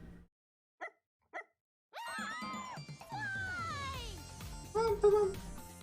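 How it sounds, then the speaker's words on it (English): A dog in an animated RWBY scene gives a couple of short yips and whiny, high barks mixed in with cartoon sound effects and music. "A dog?"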